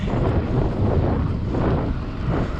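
Strong headwind roars across the microphone of a rider on an electric bike going about 28 km/h. The buffeting rumble is loud and continuous, with no voices.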